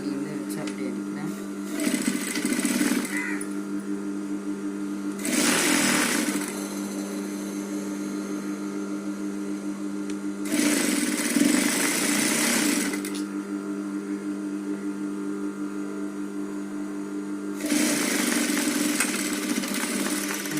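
A sewing machine stitches a cloth bag, its motor running in several bursts of rapid mechanical whirring separated by quieter stretches with a steady hum, while a person talks throughout.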